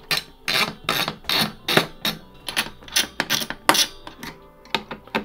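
Creaking and cracking as a PC CPU cooler is pried off the processor, a close series of sharp, irregular snaps and crunches.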